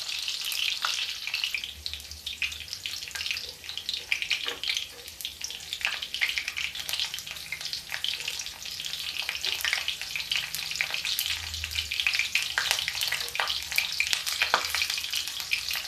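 Okra frying in a pan hisses in a dense, continuous bright sizzle with crackling pops and occasional stirring scrapes, loud and close throughout, without speech.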